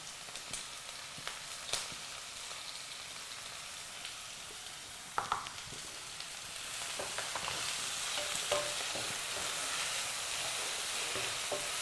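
Onion sizzles and crackles steadily in a hot pan with salt added, a constant close frying hiss with a brief clatter and stirring noises partway through.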